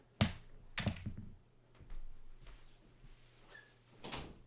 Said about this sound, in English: Let me close this door real quick